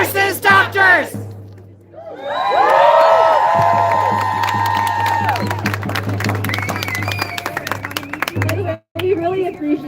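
A rally crowd in Boulder, Colorado protesting the war in Gaza chants in unison, voices rising and holding together with scattered cheers and claps, loud and close, with a brief break near the end.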